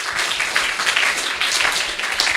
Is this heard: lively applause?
yes